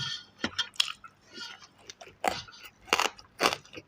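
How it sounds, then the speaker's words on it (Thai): Crispy pork and stir-fried Korat-style noodles chewed up close, with a few separate crunchy bites and soft squishy mouth sounds in short bursts, alone without talk. "แล้วแม่จะเคี้ยวหมูกรอบไหวไหมอ่ะ"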